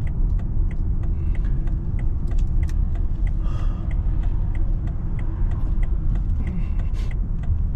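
Road traffic at night: a steady low rumble of passing cars, with faint ticking and clicking over it and no talk.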